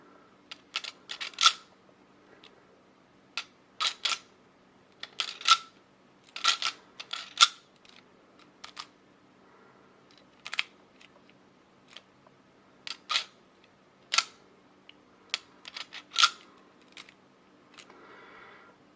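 Clicks from a German-made storage unit padlock mechanism being worked, a series of crisp, close metallic clicks and snaps in irregular bursts with short pauses, alone without talk.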